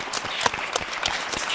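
A studio audience at a comedy evening claps in a short, lively burst of applause.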